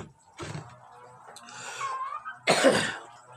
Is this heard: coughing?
yes